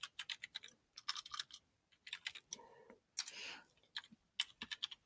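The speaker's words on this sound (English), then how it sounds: "type the title of your paper" Computer keyboard typing in a Google Docs document, with short bursts of rapid key clicks separated by pauses and a longer spacebar or keystroke run near the middle, close and fairly quiet, with no speech.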